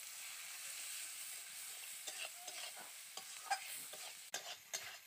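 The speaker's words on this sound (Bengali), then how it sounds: "মশলাটাকে আমি ভালো করে কষিয়ে নিচ্ছি" Chili, turmeric and salt are roasted in a pan for an egg and potato curry, giving a faint, soft sizzle under repeated scraping stirs, with louder spatula clacks near the end.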